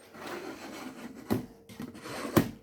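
A scribe scoring sheet metal duct for a field transition gives soft rubbing scrapes and two sharp, distinct scratching strokes, close by and with no talking.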